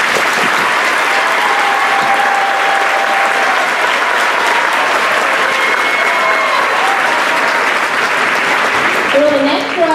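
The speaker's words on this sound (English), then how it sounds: "Please give these students a round of applause." Graduation audience at a 2018 ceremony applauding students after their names are read, a dense, steady roar of clapping that fills the whole stretch, loud and continuous with faint crowd murmur beneath.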